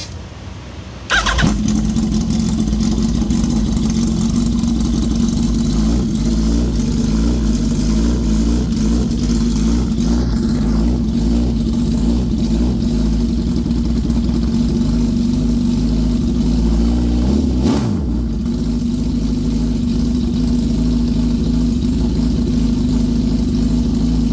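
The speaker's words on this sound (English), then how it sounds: "We got the fuel system up and running. The bike is running super rich." A custom motorcycle engine running rich fires up after a second of quiet and idles loudly and steadily nearby in a shop for over twenty seconds, with a brief blip in revs partway through.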